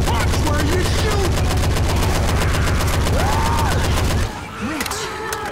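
Rapid automatic gunfire in Left 4 Dead 2: a loud, steady stream of evenly spaced shots for several seconds, with voices talking over it, then the firing stops and sparse clicks and a few faint shots follow.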